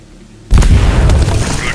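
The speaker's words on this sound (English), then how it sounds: "That explosion will sure attract some company." A loud explosion in the Aliens: Dark Descent video game bursts in suddenly after near silence, a heavy booming blast followed by a sustained rumbling roar with scattered crackles that keeps going to the end.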